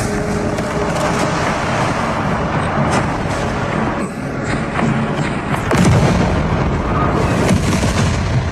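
A grenade blast in Alien: Rogue Incursion on Meta Quest 3 sits within a dense, continuous roar of battle, with a heavier thud surging near the end.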